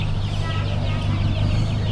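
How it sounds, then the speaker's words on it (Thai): Betong meat chickens at a poultry market in Ban Pong, Ratchaburi, give soft overlapping clucks over a steady low market hum and crowd murmur, with the birds fairly close. "อันนี้เป็นไก่เบตงนะคะไก่เบตงไก่ใช้เนื้อค่ะ"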